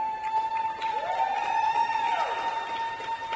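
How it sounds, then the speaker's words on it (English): A figure skating arena crowd at a Junior Grand Prix event in Egna cheers and applauds the next skater, a steady, distant roar of many voices and claps with a faint tone running through it. "And there's the crowd for the next skater from Georgia."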